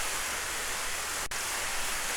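Heavy rain pours steadily in The Innocent Luna video game, a dense, even hiss with no breaks, briefly interrupted by a single sharp click partway through.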